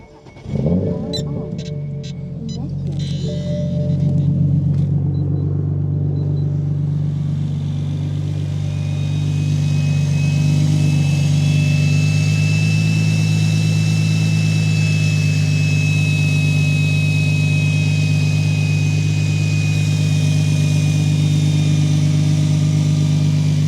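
A 700-horsepower BMW 335i fires up with a short cranking burst and a rising roar, then settles into a loud, steady, deep idle that rumbles on close by for about twenty seconds, with no talking.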